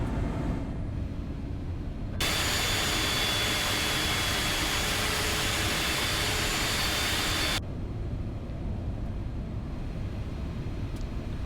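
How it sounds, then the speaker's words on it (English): Auxiliary power unit of an airliner in a flight simulator game, a steady whining airflow drone that swells into a louder broadband roar for several seconds before settling back to a constant hum. "APU is running"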